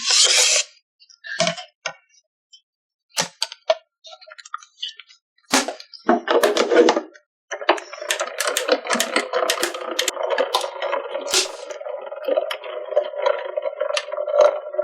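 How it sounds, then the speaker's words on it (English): A die cutting machine runs a craft panel through with a grinding, rolling mechanical churn that starts after a few scattered clicks and handling taps, then keeps going steadily to the end. "run it through my die cutting machine"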